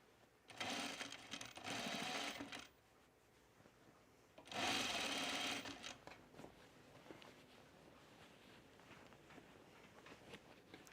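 Sewing machine stitching the neckline of a top in two loud close bursts of rapid whirring, each lasting a couple of seconds, separated by quiet fabric handling.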